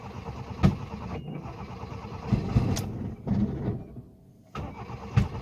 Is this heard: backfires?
yes